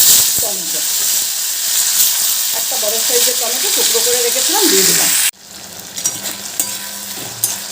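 Chopped tomatoes are dropped into hot oil over fried tempering spices for a vegetarian drumstick-flower dish, setting off a loud, bubbling sizzle that suddenly drops to a quieter hiss partway through, while someone speaks briefly.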